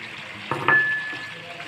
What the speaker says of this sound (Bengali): দেখুন আমি এখন এই যে আলুগুলো দিয়ে দেব।